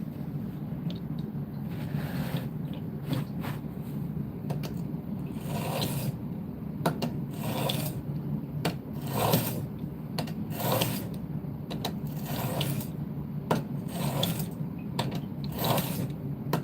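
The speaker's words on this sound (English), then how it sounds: "I clamp it in this block. And then I'm just sharpening her up." A chisel clamped in a sharpening jig at 30 degrees is drawn back and forth across a sharpening plate, producing a steady, close, rhythmic scraping with regular rasping strokes under a low background hum.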